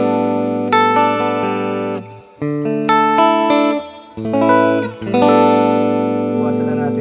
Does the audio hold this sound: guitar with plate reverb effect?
yes